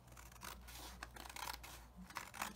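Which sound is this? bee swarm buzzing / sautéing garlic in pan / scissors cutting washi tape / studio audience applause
scissors cutting washi tape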